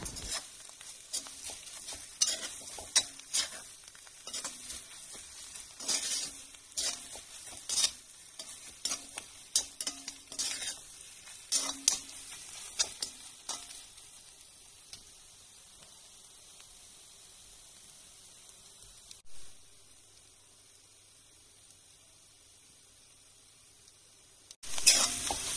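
Bitter gourd pieces fry in oil with ground spice mix, giving a steady soft sizzle broken by stirring clatters that fade into quieter hiss, then a sharp scrape near the end.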